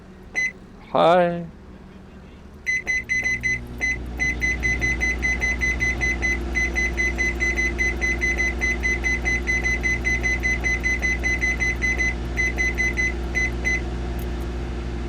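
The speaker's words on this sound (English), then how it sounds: "And now let's microwave it." A microwave oven running in the Cooking Simulator video game: a brief voice first, then a run of electronic beeps and a steady, droning hum with repeated tonal pulses that continue to the end.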